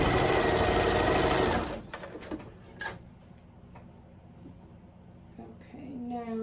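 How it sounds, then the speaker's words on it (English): Sewing machine stitching scrappy quilt strips, a fast steady mechanical whir running close and loud for about a second and a half, then stopping, followed by quieter handling noises and a brief restart near the end. "Okay, now I'm sewing this strip to this side."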